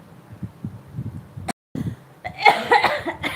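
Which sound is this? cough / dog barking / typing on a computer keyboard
cough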